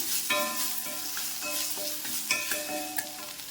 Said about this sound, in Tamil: இந்த மூணு தூளையும் போட்டு நல்லா ஃப்ரை பண்ணி விடுங்க